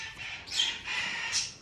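A rescued parrot squawks loudly in harsh, grating bursts, several calls running together over about a second and a half, close and alone with no talking.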